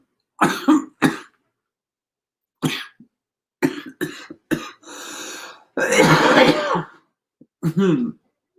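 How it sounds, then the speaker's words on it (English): Several sharp coughs and throat-clearing bursts, close and loud, spaced irregularly with silent gaps, including a longer rough hacking fit near the end. "especially when you cough like that in the middle"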